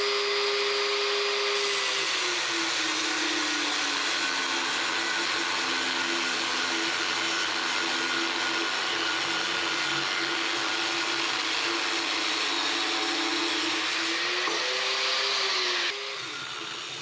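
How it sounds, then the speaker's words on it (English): A power tool grinding steadily while deburring and tapering the lead-in threads of cut stainless threaded rod, a continuous loud whir with a slowly shifting pitch that stops near the end. "Deburring and tapering the lead-in threads."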